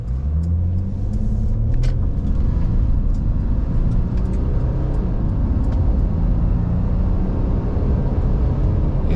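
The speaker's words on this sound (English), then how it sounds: "just give it a little bit of acceleration from standing start and see what happens." A 2018 Mercedes-Benz X350d pickup with a 3 litre V6 diesel pulls away from a standing start, its engine a loud, steady low rumble heard from inside the cabin and holding throughout.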